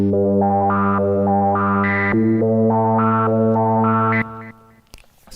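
An Arturia MatrixBrute synthesizer preset driven by a custom waveform LFO plays a loud, distorted sequence of stepped notes, rising in repeating patterns before breaking off into brief noise.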